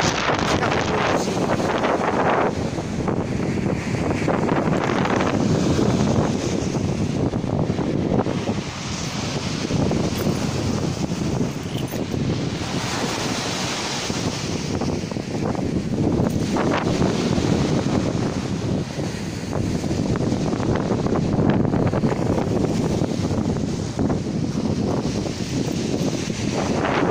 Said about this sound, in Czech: trošku deštíček, trošičku vítr